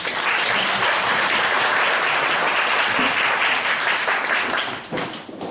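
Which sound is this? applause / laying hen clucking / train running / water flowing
applause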